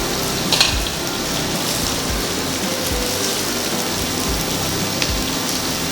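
Green beans stir-frying in a hot pan, a steady loud sizzle with occasional crackles and scraping stirs, no talking.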